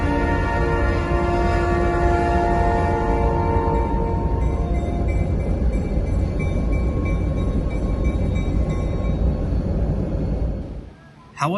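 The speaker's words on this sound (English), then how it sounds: "I caught the two WAMX SD40-2s that serviced the port doing some weird job with" A pair of WAMX SD40-2 diesel locomotives switch cement hoppers at a port, and a loud, sustained multi-tone horn blares over a heavy engine rumble. The horn fades out partway through while the engines keep droning, then the sound cuts off abruptly.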